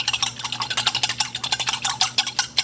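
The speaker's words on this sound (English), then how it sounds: "I'm gonna use a fork because my frother doesn't work, and honestly I feel like the fork will whisk all the clumps off" A fork whisks quickly against a cup or bowl to break up clumps, making rapid, even, close scraping clicks at about six strokes per second, with a low steady hum underneath and no talk.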